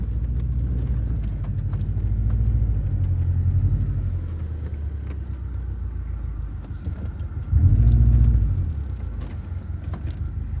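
Lifted Subaru Forester XT cruising along an outback Australian road past an old telegraph station, a steady low engine and road rumble from inside the car, swelling briefly partway through.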